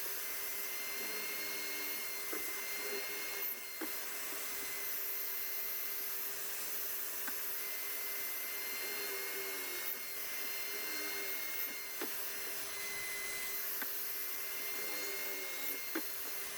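A workshop vacuum hooked up for dust extraction on a pocket hole jig, used in woodworking, runs as a steady, faint droning whine throughout, broken by occasional light clicks and knocks.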